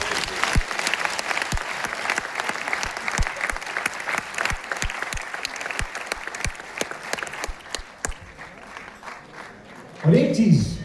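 An audience at a motivational business talk gives sustained applause with sharp individual claps standing out across the crowd, which tapers off near the end as a voice begins speaking.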